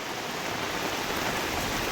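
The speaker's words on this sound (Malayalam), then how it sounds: "ഈ വെള്ളം പോകാൻ വേണ്ടിയിട്ടുള്ള സംവിധാനം കേട്ടോ ഇതാ വെള്ളം അങ്ങനെ വരുന്നുണ്ട്" Steady, even rushing of water flowing continuously into a drainage channel, a soft hiss with no breaks or other sounds.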